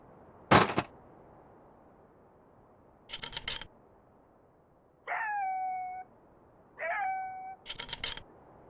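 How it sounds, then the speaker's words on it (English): A dog-like animal howls in a video game, two rising-then-level wavering calls fairly close by, separated by sharp clicking and clattering bursts, with no talking. "That sounds like some kind of dog."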